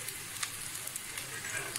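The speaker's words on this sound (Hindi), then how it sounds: "ये देखें, हमारे कबाब फ्राई हो रहे" Beef shami kebabs shallow-frying in oil on a flat griddle give off a steady, close hiss of sizzling with small pops, continuous and fairly even throughout.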